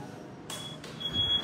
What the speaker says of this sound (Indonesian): Tuh, ini sennya Mas Adi menggunakan buzzer nih teman-teman.